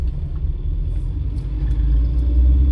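A car travels over a rough, potholed road, giving a steady, loud low rumble of tyres and engine that swells slightly toward the end, with no voices.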